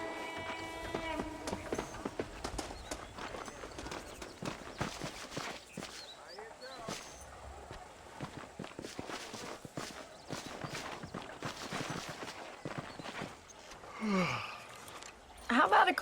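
Horse hooves clip-clop steadily while riding in Red Dead Redemption, a Western game set in open country. The rhythmic hoofbeats run throughout at moderate volume, and voices are heard talking over them.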